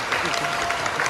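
Wedding guests applauding in a hall, a brief dense patter of clapping hands, even and moderately loud.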